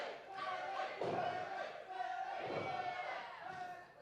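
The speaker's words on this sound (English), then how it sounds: "the crowd going crazy for Willie Mack tonight" A wrestling crowd roars and chants for Willie Mack during his match against Hammerstone, a steady swelling din with loud surges and muffled thuds under it.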